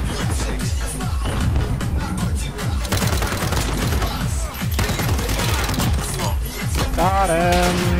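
Dense, continuous gunfire in an online shooter video game, rapid bursts and bangs layered with in-game music and effects throughout, with players talking over it.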